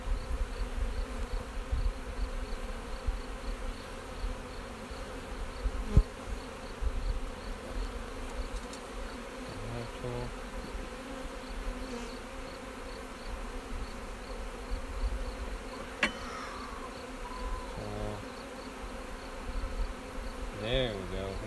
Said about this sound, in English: The bees on the frame.